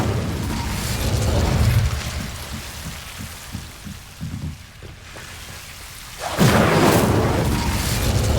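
Incendio fire spell in Hogwarts Legacy, a roaring whoosh of flame with steady crackling hiss, dipping in the middle before a fresh loud burst of fire surges back near the end.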